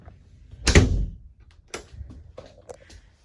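Walk-through door in the living quarters of a 2016 Cimarron 3 Horse 8316 Outback trailer, giving one loud, close thump followed by two softer knocks and rattles, with no talk.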